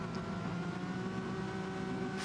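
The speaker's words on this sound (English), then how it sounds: "Engines are revving." Race car engines revving on a sim racing game grid before the start, a steady, dense mechanical drone holding level throughout with no gaps.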